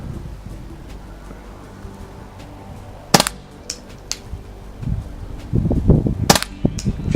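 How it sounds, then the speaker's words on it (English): Walther CP99 air pistol fired semi-automatically in cold outdoor conditions, a series of sharp close cracks at an uneven rapid pace, with wind buffeting and handling noise around the shots. "And let's have another go at semi-automatic mode. No pre-cocking, just shooting."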